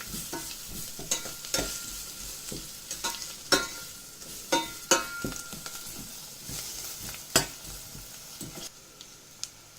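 Curry leaves and garlic sautéing in a pan for horse gram sambar, a steady sizzle broken by frequent sharp scrapes and clicks of a spoon stirring, close and fairly loud, with no talking.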